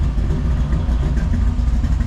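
A 1956 Chevrolet Bel Air engine idles close by with a steady low rumble and slight rhythmic pulsing, running continuously with no talking.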